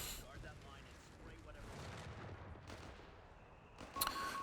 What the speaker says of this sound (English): Mortars barraging each other from a distance